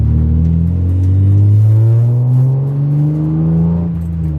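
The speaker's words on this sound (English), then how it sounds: "I was worried about this exhaust being almost too loud, but it's perfect." Deep exhaust note from a BMW E36 M3 with an aftermarket exhaust, held loud and close as the engine revs up and eases back, its low harmonics sweeping steadily upward then settling, with no talking over it.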